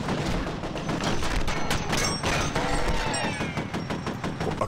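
Dense, continuous gunfire in the shooter game F.E.A.R., with rapid overlapping shots and heavy booms filling the whole stretch at close range, loud and unbroken, with no talk over it.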